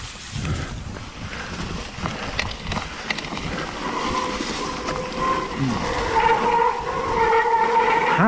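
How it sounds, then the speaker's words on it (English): Brakes howl and squeal on a mountain bike riding the Steyning trails, a rising tonal whine building over the last few seconds above loud, rough rolling and wind noise, growing louder toward the end. "Howling brakes."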